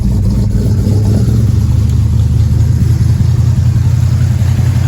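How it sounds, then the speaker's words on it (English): A large engine in a surprise-find project car runs just after being started cold, giving a loud, close, steady rumble throughout with no talking. "All right, let's go fire it up."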